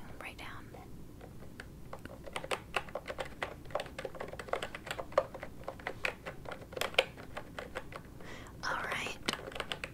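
Steady computer keyboard typing in a quiet room, fast irregular key clicks running throughout with soft whispering mixed in at close range.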